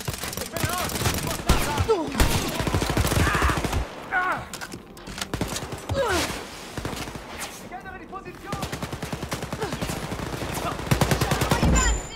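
Weapons fire in the shooter game Wolfenstein: Youngblood: dense bursts of automatic gunfire and sharp single shots in rapid succession, loud and continuous, with game effects mixed in.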